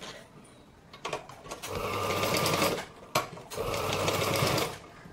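Sewing machine stitching folded blouse fabric, two close, steady bursts of rapid mechanical chatter with a brief pause between them.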